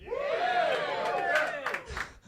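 A comedy club audience cheers and whoops loudly for a stand-up comedian, a sustained rising crowd roar with shouted voices that fades into a few claps at the end.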